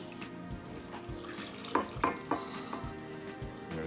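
Whole milk pours into an ice cream base in a kitchen, a soft steady liquid stream with light clinks of dishes and utensils, fairly quiet and close.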